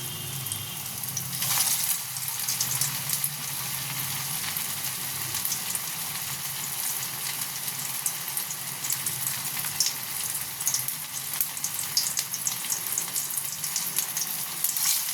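Chire aloo bora, fritters of flattened rice and potato, frying in hot oil with a continuous bubbling sizzle that holds steady throughout. There is no voice.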